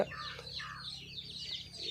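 A mother hen clucks softly among her young chicks, whose thin high peeps overlap in a faint, busy chorus throughout.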